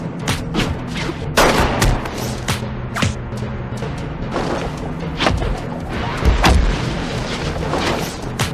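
Gunfire rings out during a staged hand-to-hand combat fight scene: loud, sharp shots and impacts land at irregular intervals, some clustered, others single, with heavy thumps mixed in and no speech.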